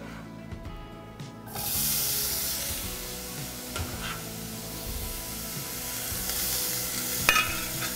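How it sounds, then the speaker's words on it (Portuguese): Steady, quiet sizzling of bacon frying slowly over low heat in a pan, with a soft crackle and occasional small pops. "Bacon aqui no fogo baixo, deixa ele fritando devagarinho"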